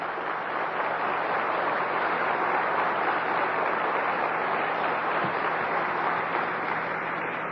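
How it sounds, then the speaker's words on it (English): Audience applause after a speaker is introduced at a lecture, a steady wash of clapping holding at even volume with no talk over it. "Let's give a hand of applause to Don McAlvany, if you will."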